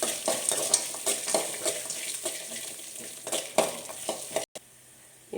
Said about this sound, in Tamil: அதுக்கப்புறம் இந்த கிராம்பு, பட்டை, ஏலக்காய் போட்டு முந்திரி, இது எல்லாமே எண்ணெயில் அதை இப்படியே வறுத்துக்கலாம்.